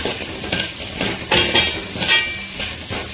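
Cumin and fennel seeds sauté in hot oil, a close, fairly loud crackling sizzle with rhythmic swells every half second or so as they are stirred, with no voices.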